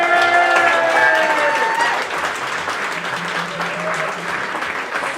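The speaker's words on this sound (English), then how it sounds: "let's have a big round of applause for the person's parents" Warm applause from a festival crowd at Boisdale of Canary Wharf, honoring a performer's parents, steady clapping throughout with a few voices and a sung note ringing over the start.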